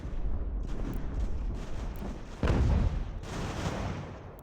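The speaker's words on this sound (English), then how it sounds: "Our mortar is in position." A mortar firing in Ultimate General: American Revolution, with rumbling booms from the in-game battlefield and a single heavy thump standing out midway over continuous background din.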